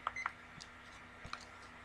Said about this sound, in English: it beeps when you start and stop it